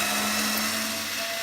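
A steady high-pitched whine of a power tool removing screws from a Whirlpool top-load washer, running continuously at close range, with no pauses.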